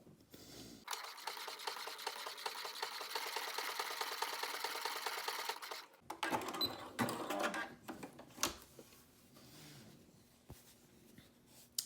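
A sewing machine stitches foam stabilizer to exterior fabric in one long steady run of rapid, even needle clatter up close, then stops, followed by handling rustles and a few soft knocks.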